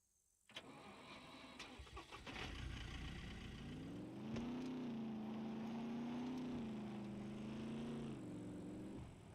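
In the SCUM survival video game, a truck engine catches after a few sharp clunks and settles into a steady, droning idle that rises slightly, running on alone until the end.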